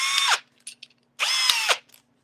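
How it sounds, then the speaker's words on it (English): A power drill bores out a hole in two short, loud whirring bursts, each one winding down as it stops, with faint clicks and handling noise in the pause between. "drill this out a little bit"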